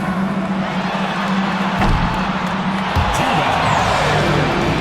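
Arena crowd in the WNBA 2K25 video game cheering and applauding after a fan half-court shot, a dense steady roar of many voices with whoops, loud and continuous throughout.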